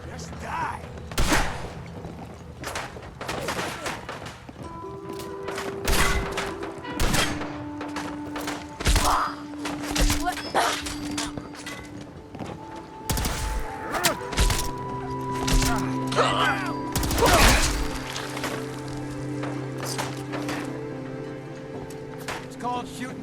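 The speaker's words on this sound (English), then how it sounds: "It's called shooting straight, rookie!" Bursts of gunfire in the video game Fallout 4: sharp, rapid shots and heavy thuds repeat irregularly throughout, with voices talking between and over the shooting.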